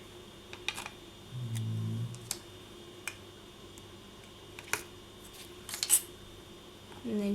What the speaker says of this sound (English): I'm just trimming away